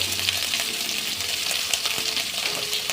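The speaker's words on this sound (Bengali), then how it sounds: "মূলোটা অল্প একটু ভেজে নেব" Radish pieces fry in a pan with salt and a little turmeric, a steady dense sizzle that holds constant and close throughout.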